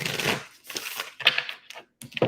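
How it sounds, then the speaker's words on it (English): Tarot cards are shuffled close by in quick, papery bursts of riffling and flicking, separated by short pauses, with no other sound around them. "I just want to shuffle and get a good shuffle"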